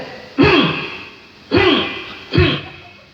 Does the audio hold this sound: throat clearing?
yes